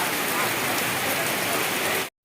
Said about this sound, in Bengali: এত যে বৃষ্টি হচ্ছে, বৃষ্টি থামুক তারপর আমি বাড়ি যাব